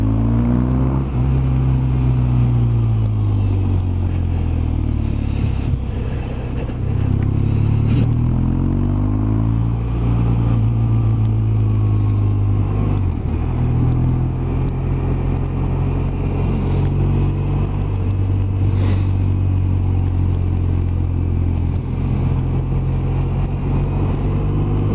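A BMW R1200RT motorcycle rides through traffic on a freezing -4° morning, its engine a close, steady drone that rises and falls with throttle and gear changes. Nobody speaks.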